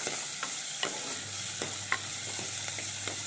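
Shallots, onion, garlic and ginger sautéing in a pan, giving a constant hissing sizzle broken by periodic spoon scrapes and taps as the pan is stirred, close and with no talking.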